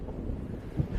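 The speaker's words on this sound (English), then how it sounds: "It is so windy." Wind buffets an outdoor microphone while riding a Land Snail 930 electric skateboard, a low, rumbling, fluttering roar that stays fairly loud and steady for about a second.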